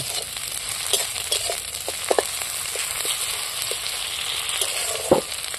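Onion and chopped garlic fry in a pan with a constant close sizzle and crackle, broken by scattered scrapes and knocks as a spatula stirs them, with no voices.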